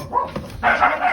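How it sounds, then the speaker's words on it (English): A neighbor's dog gives a couple of short barks nearby, brief and fairly loud, in a backyard during composting. "Sorry, that's our neighbor's dog"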